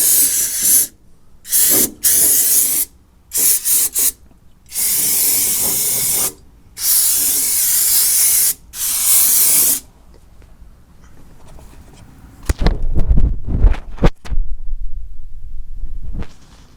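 Aerosol brake cleaner sprayed in several loud hissing bursts, short and longer blasts separated by pauses, followed by softer dripping and clattering in a garage while cleaning off rust before sealing.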